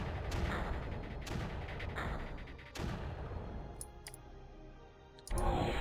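Mortars fire in the strategy game Creeper World: repeated sharp, punchy launch thumps arrive every second or so over a constant rumbling game soundscape, with a final loud burst at the end.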